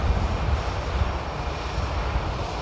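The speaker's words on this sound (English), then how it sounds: "This EasyJet just arriving in from Oslo." An EasyJet airliner arriving from Oslo at Manchester Airport gives a close, loud, low-pitched engine rumble that drones steadily with no voices.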